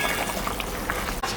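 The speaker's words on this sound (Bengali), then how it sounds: "10 মিনিট ঝোলটা ফুটুক" Fish curry made with sarpunti fish and edible flowers simmering in a covered pot, a close steady bubbling and sputtering boil with soft pops throughout the short moment.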